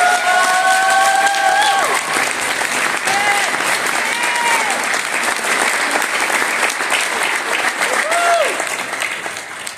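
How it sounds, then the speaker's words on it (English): A high school auditorium audience applauding students of an all-region band, a dense, sustained clapping crowd close and loud throughout, with faint whistles and cheers rising through it. "let's give one more round of applause for the hardworking students"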